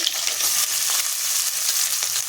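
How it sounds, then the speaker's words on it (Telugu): Mustard seeds, cumin, green chilli, curry leaves and onions fry in hot oil for a mushroom curry, a loud, bright, continuous sizzle with crackling spatter, close and without talking. "ఆయిల్ వేడెక్కి ఆవాలు, జీలకర్ర, పచ్చిమిర్చి, కరివేపాకు, ఉల్లిపాయలు"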